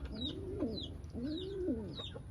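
Pigeons cooing softly nearby, three rising-and-falling coos in a slow rhythm, with faint higher chirps and a quiet steady background hiss.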